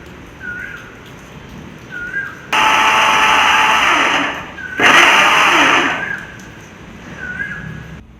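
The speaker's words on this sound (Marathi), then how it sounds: "मिक्सरच्या भांड्यात घेऊन मिक्सरला मिक्सर चालू बंद करत करत बारीक वाटायचे" A mixer grinder pulses roasted ingredients to a powder, whirring loudly in two bursts of a few seconds each, with a short pause between and quieter background chirps around them.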